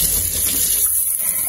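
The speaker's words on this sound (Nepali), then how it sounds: "यहाँ चाहिँ यसरी पानी हाल्ने।" Water poured into a pot while cooking potatoes for homemade pani puri, a loud close gushing stream that flows steadily and uninterrupted.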